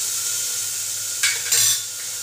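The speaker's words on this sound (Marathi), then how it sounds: "मिरची टाकून, टॅमॅटो जेवढी आपण कटिंग केलेली आहे तेवढी सगळं टाकून गॅस बारीक करून ते चांगलं परतून घेतलं जाणार आहे" Chili and chopped tomatoes sautéing over low heat in a pan, a steady close hiss of frying with two short bursts of stirring scrapes partway through, no talking.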